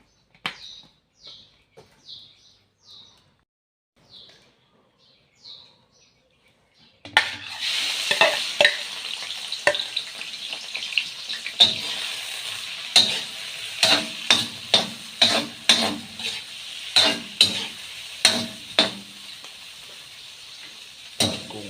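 A few light clinks of a utensil in a quiet kitchen, then shrimp drop into hot oil and a loud steady sizzle starts, punctuated by repeated rhythmic scrapes and taps of a spatula in the pan.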